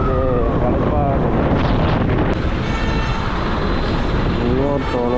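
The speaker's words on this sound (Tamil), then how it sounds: "ரொம்ப எதிர்காத்து அடிக்குது." Strong headwind buffets the microphone on a motorbike ride from Chennai to Coimbatore, a loud, steady roar with traffic rumble underneath throughout.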